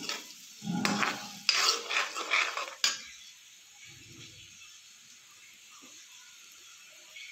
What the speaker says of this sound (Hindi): इसमें डालेंगे हम गार्लिक, इसको अच्छी तरह से हम भून लें।